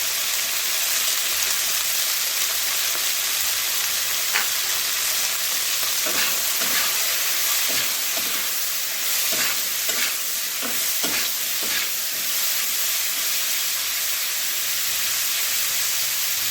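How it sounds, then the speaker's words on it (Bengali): Food frying steadily in a pan, a loud continuous sizzle with scattered stirring clicks and scrapes through the middle, close up with no talking. "এটা দু তিন মিনিট এবারে ভাজতে হবে এদের দু তিন মিনিট ভাজতে হবে"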